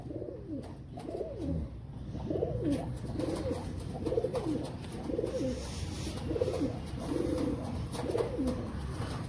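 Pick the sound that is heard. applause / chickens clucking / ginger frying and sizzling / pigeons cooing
pigeons cooing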